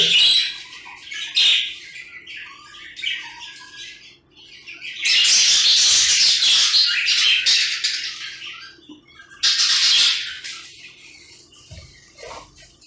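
A budgerigar chick squawks while being hand-fed, raspy shrill cries and squeaks coming in bursts, with two long loud harsh squawking runs between quieter chirps, close up.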